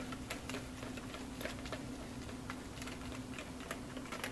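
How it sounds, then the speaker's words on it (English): A whisk taps and scrapes quickly and faintly around a bowl of brownie batter made with cocoa powder and oat fiber, in a steady rapid ticking rhythm. "Now I'm going to whisk that up until it's all a batter"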